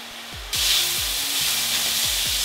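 Minced meat browning in a hot pan for a keto cottage pie, a loud, steady sizzle that jumps up suddenly and then holds, with a few low knocks from stirring.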